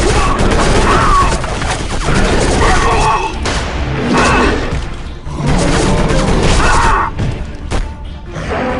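Covering gunfire in Area 51 rolls as loud, dense bursts of shots and crashing impacts in waves, with shouting voices mixed into the chaos.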